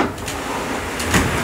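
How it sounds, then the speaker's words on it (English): Closet sliding doors in a rental, broken so that both doors move together, rumble and scrape briefly along their track, close by with a steady rolling texture. "This thing opens both doors at the same time."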